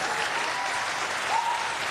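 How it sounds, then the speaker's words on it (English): Steady audience applause fills a city council meeting, dense and continuous for the full two seconds, with a faint voice briefly rising near the end. "Please, keep your applause down."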